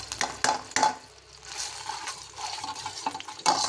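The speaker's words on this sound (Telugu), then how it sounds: "ఇప్పుడు ఇందులో అల్లము వెల్లుల్లి పేస్ట్ వేస్తున్నాను నేను" Ginger-garlic paste hitting hot oil in a pan for a capsicum curry, giving a steady hiss and crackle with a few sharp clinks of a spoon stirring near the start and end.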